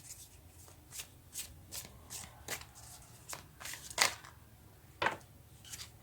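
Tarot cards are shuffled close by in a quiet room, a run of soft riffling and slapping bursts roughly every half second, with a couple of sharper snaps, and no one speaking.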